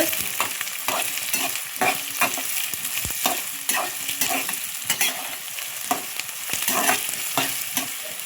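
Green chillies, onion, mustard seeds and cumin fry in hot oil with a loud, close, continuous sizzle, crackle and spatter, broken by repeated scraping stirs of a spoon in the pan.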